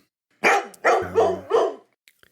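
A dog barks four times in quick succession, loud and close, with silence around it.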